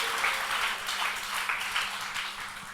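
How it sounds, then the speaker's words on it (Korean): A church congregation at an evening conference gives a warm round of welcoming applause, a broad, steady wash of many hands clapping together at moderate volume throughout. "큰 환영의 박수로 하나님께 올려드리겠습니다"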